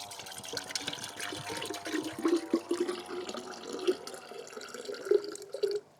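Coconut water from a freshly opened, juicy coconut splashes and trickles steadily, with close, wet gurgling and dripping throughout before it stops abruptly.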